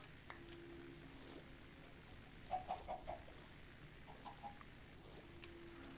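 Minecraft chickens cluck in a few soft, short bursts over a quiet game backdrop, a brief cluster of clucks and then a couple more, faint and spaced apart.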